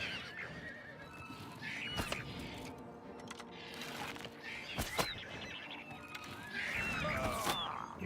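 A horse whinnies faintly several times in the fantasy video game The Elder Scrolls IV: Oblivion, mixed with sharp clicks and thuds and some distant bird-like calls.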